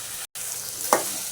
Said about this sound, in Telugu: వంకాయలు ఆలుగడ్డలు అనేది కొంచెంసేపు నూనెలో అనేది వేగనిద్దాం